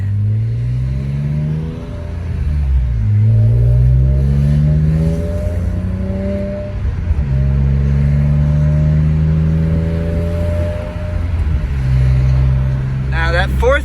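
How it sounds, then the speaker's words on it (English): A BMW E46 M3 with an SMG gearbox revs hard and climbs through its gears, each upshift breaking the rising engine tone before it builds again, loud and close the whole time. "watch how it shifts. In the third shift setting, it shifts great."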